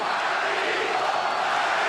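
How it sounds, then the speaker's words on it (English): Boxing crowd at the Margarito vs Cotto fight chanting Margarito's name, a dense, steady roar of many voices filling the arena without a break. "Crowd chanting Margarito."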